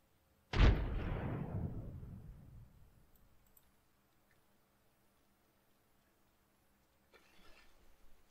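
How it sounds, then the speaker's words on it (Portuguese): A frag grenade goes off in the video game Apex Legends as one loud, sharp blast with a long rumbling decay that fades over a few seconds, followed later by a faint soft noise. "Throw my grenade out."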